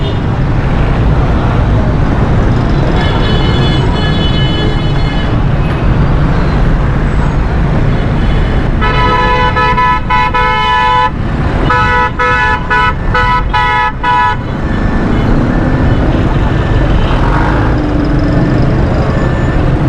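Loud street traffic in a Karachi traffic jam, with engines rumbling throughout and repeated car horns sounding in bursts, including long blasts and a rapid string of honks.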